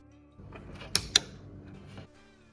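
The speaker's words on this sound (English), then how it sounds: "2 loud clicks, the first one where one of the relays in the pre-charge circuit turns on" Two sharp, loud clicks in quick succession from the high-voltage pre-charge relays of a Nissan Leaf drivetrain at startup, close up over a low hum, with a softer thunk shortly after.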